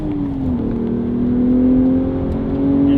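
BMW Z4 with a B58 engine, Valvetronic Designs exhaust and OEM downpipes, heard from inside the cabin with the top up: a loud, steady engine drone with a smooth rising hum as it revs, no voices.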